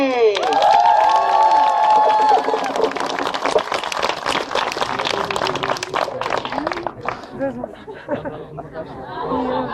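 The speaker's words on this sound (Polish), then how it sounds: "Oklaski dla braci!" A farewell gathering for a Dominican walking pilgrimage group breaks into a crowd's applause and cheering, loud and sustained for several seconds, with chatter and shouts mixed in before it thins into babble.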